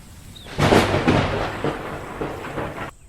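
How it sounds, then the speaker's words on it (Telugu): Thunder in a narrated ghost story, heard as a loud, close crack that rolls into a rumble and fades over a few seconds, with no talk. "ఉరుముతోంది."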